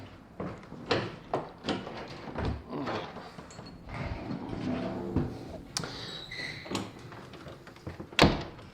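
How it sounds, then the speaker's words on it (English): An access door between two buildings of an old-fashioned store opens with clunks and scraping, followed later by a sharp knock or latch, amid footsteps and movement; no one speaks. "This is an access door that goes through the middle of our two buildings."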